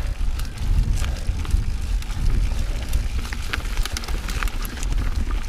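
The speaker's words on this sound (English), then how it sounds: "Got a little headwind today." Steady headwind buffets the microphone of a bicycle rolling along the Ridge Trail at Fair Hill, Maryland, a loud, continuous low rumble with faint crunching from the tires and no talking.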